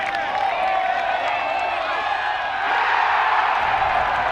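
A large golf gallery roars and cheers continuously after a chip-in on the first hole of a major championship, a dense, loud wall of crowd noise swelling slightly toward the end.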